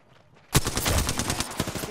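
Alternator SMG fire in Apex Legends: after a half-second lull, a sudden loud burst of rapid automatic shots rattles on continuously to the end, close and dense with no talking.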